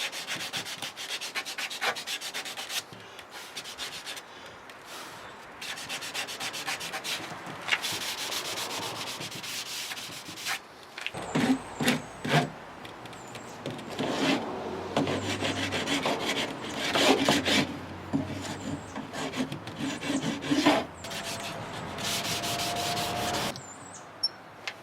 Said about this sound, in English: I'm using a file here to sand down the damage done by pets. I'm just rounding off the corner